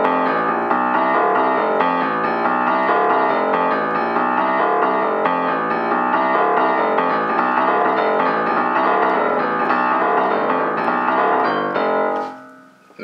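A boogie woogie left-hand bass line on piano, loud and continuous, first in even straight rhythm and then swung, ending with a brief fade and stop.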